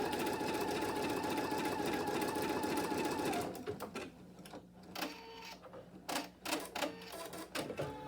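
Embroidery machine sewing a placement stitch: a fast, steady mechanical whirring and clatter for about three seconds, then irregular stop-start motor bursts and clicks, fairly quiet, no talking.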